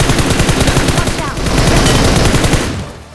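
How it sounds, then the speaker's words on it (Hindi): Dense, loud automatic gunfire from an M416 rifle in a PUBG match, rapid sustained bursts rattling continuously for about three seconds before tailing off. "अब यहाँ पे जब मैं आता हूँ भाई देखो हमारे ऊपर आता है बहुत मस्त वाला फायर।"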